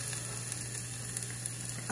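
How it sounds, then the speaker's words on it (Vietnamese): Hot cooking oil, about two tablespoons, sizzles in a pot on the stove while fish is prepared for braising, a steady close crackle with no talking. "Trước tiên thì Xuân sẽ để nồi lên bếp Dầu nóng, nóng và thì cho cho vào đây vào. khoảng 2 muỗng canh dầu ăn."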